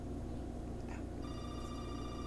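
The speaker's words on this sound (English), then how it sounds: "Can you get the phone, please?" A telephone rings during a scene from the TV drama Breaking Bad. Steady electronic ringing tones begin partway through and continue over a low, constant room hum.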